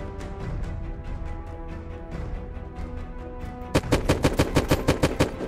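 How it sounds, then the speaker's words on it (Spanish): Video game gunfire on a vanilla survival server during a base raid: dense overlapping shots under a steady background, then a loud rapid burst of evenly spaced shots near the end, with no voices. "Hasta que estoy escuchando los disparos"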